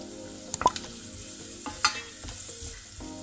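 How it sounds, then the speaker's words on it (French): Shallots sizzle as they fry in a saucepan, stirred with a few sharp clinks and scrapes near the start and a steady frying hiss underneath throughout, no voices. "vous remuez, histoire que ça ne brûle pas au fond des casseroles"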